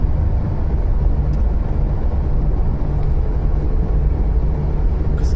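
Steady, loud low engine rumble and road noise from a red Ford Fiesta MK4 1.3i being driven, continuous throughout with no talk.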